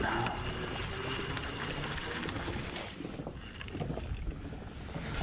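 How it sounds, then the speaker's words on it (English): A howling gust of wind buffets an open boat on the water during catfish fishing, a rough continuous roar that dips briefly and then swells again. "There comes a good howling gust of wind."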